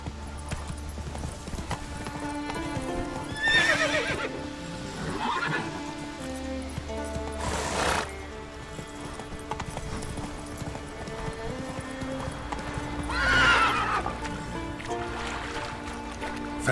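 Roach, the horse in The Witcher 3 next-gen edition, gallops with rhythmic hoofbeats and gives several loud whinnies over game music and ambience.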